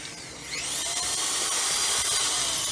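An electric drill running on a 24V 1800W pure sine inverter spins up from quiet to a steady, high-pitched motor whine that holds loud and close until the end.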